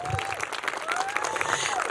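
Applause for the hosts of a political fundraiser in a private home, a steady patter of many hands clapping with whistles and cheers rising over it, moderately loud and continuous.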